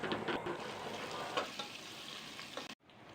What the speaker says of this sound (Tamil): ஒரு கைப்பிடி காஞ்ச திராட்சை அதையும் போட்டு நல்லா வதக்கிடலாம்